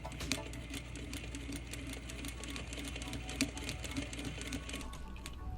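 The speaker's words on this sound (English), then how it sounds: "You see how slow I'm actually sewing right now?" A sewing machine runs slowly and steadily, stitching the waistband of a ballerina skirt, its needle making a continuous fine rhythmic chatter at close range with no talk.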